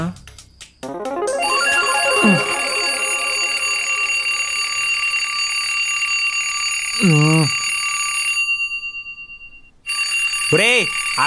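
An electronic alarm rings loudly and steadily in a home where people are sleeping, its piercing tone sounding for several seconds while warbling voices break in over it at intervals.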